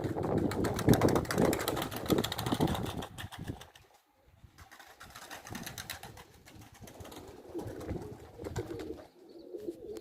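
A flock of pigeons flies overhead on a windy day, wings flapping in dense bursts with soft coos, loud at first, then thinning out and fading before a second wave of wingbeats returns.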